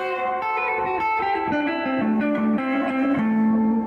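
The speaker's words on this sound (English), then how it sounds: "it's almost drowning in reverb at 4" Electric guitar played through a Fender '65 Deluxe Reverb reissue tube amp with the reverb turned up to 4, a short descending run of clean notes that ring out and wash into a heavy, lingering reverb tail.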